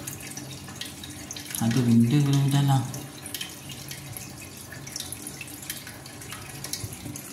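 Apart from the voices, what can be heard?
water slowly draining through a clogged sewer pipe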